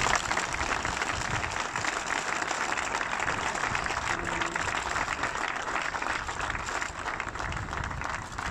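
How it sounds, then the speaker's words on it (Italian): Outdoor applause at the inauguration ceremony of Cala del Forte in Ventimiglia, a steady, somewhat distant patter of clapping lasting several seconds. "con un applauso"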